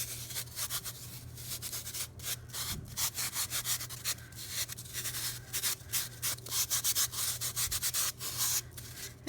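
Bare hands rub and smooth a carved foam shape in steady repeated strokes, a soft close-up scuffing and brushing with an even rhythm and no talking.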